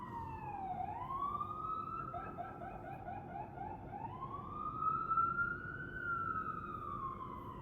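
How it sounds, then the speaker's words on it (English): A wailing emergency siren rises and falls in long sweeps on a New York city street, fairly close, over steady traffic rumble. "I'm in New York, so you're going to hear sirens."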